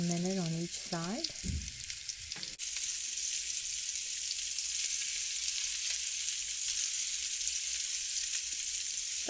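Swedish meatballs fry in olive oil in a pan, a steady broadband sizzle that holds loud and close for the whole stretch after a brief tonal noise and a clatter at the start.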